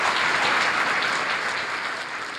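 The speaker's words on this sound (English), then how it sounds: "Clap those hands for Jesus Christ." A church congregation claps together in dense, sustained applause that stays loud and even throughout, with no voices standing out.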